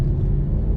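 A 2013 Maserati GranTurismo Sport on a test drive gives a steady, loud low rumble from inside the cabin, continuous and unbroken with no voices.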